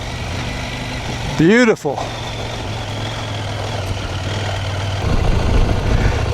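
A CFMOTO Ibex 800T motorcycle engine runs at a low, steady hum on an off-road trail near Onion Creek in Moab, Utah, with a brief rev and a short spoken word partway through, building slightly louder toward the end.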